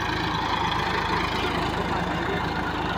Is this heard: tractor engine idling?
yes